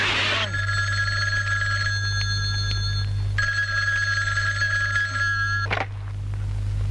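A telephone rings in two long electronic bursts separated by a short pause, loud and close over a steady low hum, in an indoor scene from a Persian comedy film.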